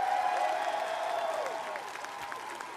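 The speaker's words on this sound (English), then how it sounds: "I think you all deserve an unbelievable round of applause for that" Audience applause and crowd noise fill the hall at The Game Awards 2014 ceremony, a steady wash of clapping that holds fairly even and slowly eases over a few seconds.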